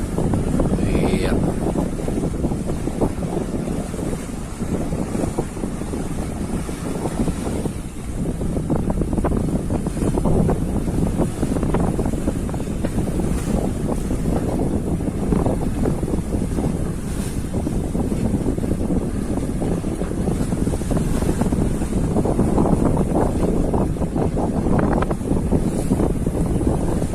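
A ship rolls on the Java Sea, with continuous loud wind buffeting the microphone, rushing water and the hull's steady rumble filling the whole span without a break.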